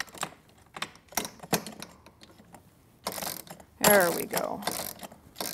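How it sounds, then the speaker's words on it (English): Allen wrench turning a furniture bolt into wooden posts during Konnector assembly, giving a series of short ratcheting clicks and scrapes, some sharper bursts later, with a brief voice speaking near the end. "I'm just going to quickly switch so that I have more leverage by using the short end of the Allen wrench"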